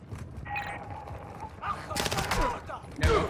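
Gunfire in the Call of Duty DMZ video game, with bursts of rapid shots in the second half, loud and close, alongside speaking voices.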